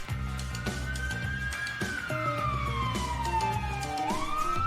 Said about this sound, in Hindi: पुलिस का सायरन सुनकर तुम दोनों के चेहरे पर पसीना क्यों आ रहा है?